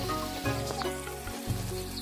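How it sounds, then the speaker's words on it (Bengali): Spice masala for a silver carp fish curry with potato and tomato fries in a pan and gets stirred, giving a close, continuous sizzle with a low hum under it. No one speaks. "নাড়াচাড়া করে মশলাটাকে পুরো মিশিয়ে নেবো"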